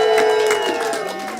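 A comedy club audience cheers and whoops at a live show, bursts of crowd noise rising over a sustained tone and fading toward the end.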